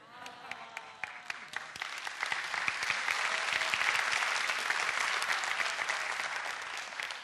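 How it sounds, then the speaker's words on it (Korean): A live audience at a talk show breaks into applause, starting with scattered individual claps and swelling into dense, sustained clapping that fills the room, loud and close throughout. "박수를 많이 치시니까요,"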